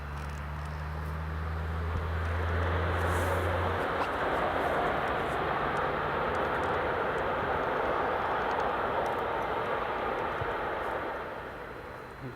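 A Falcon business jet rolls along the runway after landing, its engines a steady broad roar at moderate distance that fades slightly toward the end, with outdoor ambience around it.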